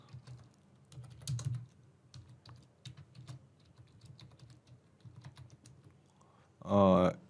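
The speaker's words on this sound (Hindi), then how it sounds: "यहाँ पे मैं एक नई यूजर की डिटेल्स एंटर करता हूँ, फॉर एग्जाम्पल कुणाल कपूर" Computer keyboard typing as new user details are entered, a steady run of light clustered keystrokes at close range, ending in a brief louder burst of clatter.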